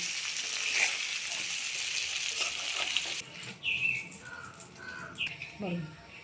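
Potatoes coated in turmeric fry in hot oil with a bright, crackling sizzle for about three seconds. The sizzle then cuts off, leaving a few sharp, high chirping calls in the quieter background.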